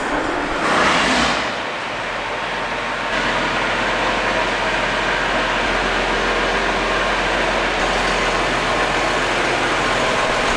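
A vehicle engine runs and rumbles steadily inside a shed as it is backed out, a loud continuous low drone with a brief swell near the start.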